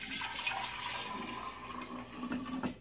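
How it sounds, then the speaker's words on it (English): Tap water runs steadily while a container is rinsed during kombucha making, a continuous close splashing wash with slight shifts in flow and no talking. "I'm just going to rinse this out for a moment because we will be using it after"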